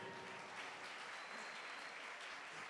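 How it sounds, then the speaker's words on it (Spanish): An audience at an international folklore festival in Portugalete applauds the singers, a faint, distant wash of many hands clapping steadily and unbroken, with no speech on top. "Aplausos para ustedes entonces."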